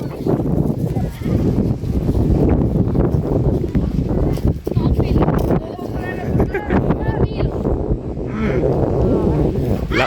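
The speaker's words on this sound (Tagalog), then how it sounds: "Lakas ng hangin dito." Strong wind buffets the microphone with a constant roar, while people talk and animals bleat nearby.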